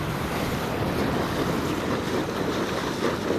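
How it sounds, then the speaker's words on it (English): Ocean waves wash steadily onto an empty beach, a continuous broad surf roar with wind buffeting the microphone, no voices. "knee deep in the waves"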